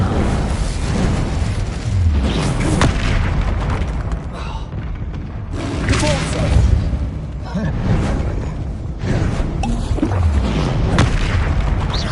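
In the Hogwarts Legacy video game, the Incendio fire spell lets out loud booming blasts, several in a row. The bursts sit within a thick bed of game noise and effects.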